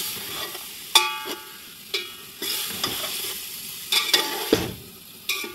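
Beef fries in a pot with lemon slices for yakhni pulao, a steady close sizzle broken by repeated scraping stirs of a spoon against the metal at irregular intervals, with no talking.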